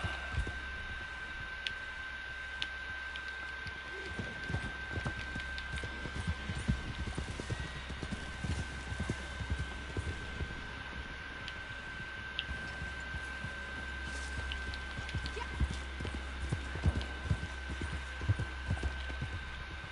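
Steady clip-clop of horse hooves plodding along at a walking pace in Red Dead Redemption 2, faint and distant, over a constant low hum and a thin tonal drone.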